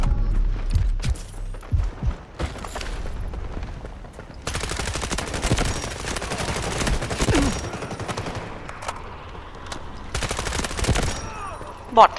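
Gun turret fire in the Delta Force video game, with long sustained bursts of rapid automatic shots alternating with short pauses and scattered single blasts, loud and close, with faint talk underneath.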